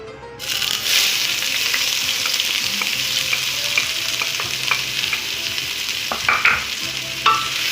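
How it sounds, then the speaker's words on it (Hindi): Finely chopped onions sizzle in oil in a kadai while a spoon stirs them, a continuous close frying hiss with intermittent scraping and clinks of the utensil against the pan. "इसको हम थोड़ा सा फ्राई कर लेंगे, यानी कि हम इसको ब्राउन कलर नहीं देंगे"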